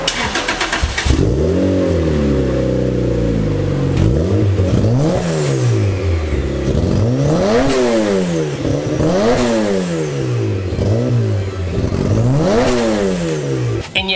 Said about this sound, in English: You don't want to hear some revs?